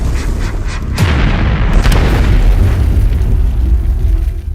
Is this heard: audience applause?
no